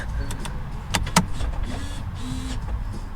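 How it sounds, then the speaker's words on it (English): The electric parking brake of a 2010s Porsche Cayman 981 with a faulty control module engages with a few sharp clicks followed by a soft motor whir, heard inside the car over a steady low background hum. "let's get the parking brake involved"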